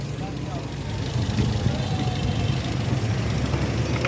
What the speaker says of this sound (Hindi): ये देखें वाइब्रेशन कर रही है। ये वाइब्रेशन इसकी आ रही है मिस फायर की